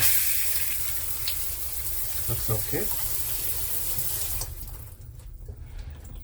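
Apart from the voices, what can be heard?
cruise cabin shower running water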